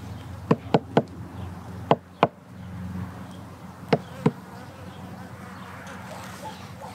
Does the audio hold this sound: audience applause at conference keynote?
no